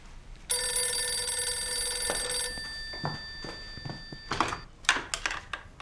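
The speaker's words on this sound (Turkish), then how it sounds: "O telefona senin bakmaman gerek Serra." A telephone rings with a long, bright electronic tone that lasts about two seconds and then stops, followed by a few soft knocks and thuds in a quiet room.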